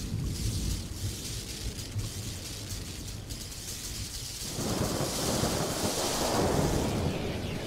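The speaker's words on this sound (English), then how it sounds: "I love how this thunderstorm is totally taking, literally stealing my thunder with its own thunder." Thunderstorm with low rolling thunder, a steady broad rumble that swells louder about halfway through over a continuous wash of rain or wind noise, fairly faint and distant, no voices.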